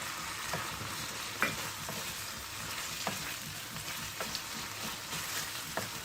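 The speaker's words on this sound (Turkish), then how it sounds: "Şimdi salçamız kavrulduktan sonra bir adet domatesimizi ekliyoruz üzerine." A fresh tomato hits tomato paste frying in a pan for an olive oil eggplant dish and gets stirred. A steady sizzle runs throughout, punctuated by a few sharp utensil scrapes and taps, with no talking.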